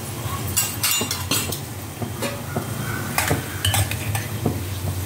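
Garlic sautéing in a pan for poondu melagu kuzhambu, a low sizzle broken by sharp clinks and scrapes of a metal spoon against the pan, close and without talk.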